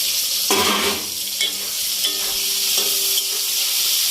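Sliced snake gourd (taruli) fries loudly in a pan with a dense, close hiss. Spatula stirs and scrapes push the sizzle higher in short bursts at intervals.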